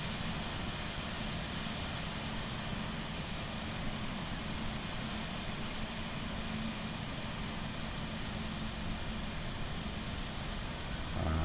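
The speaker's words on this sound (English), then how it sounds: "It's an Iberia A320 in from Seville" An Iberia Airbus A320 arrives in Microsoft Flight Simulator 2020, a constant broadband engine roar held steady and even throughout, with no voices.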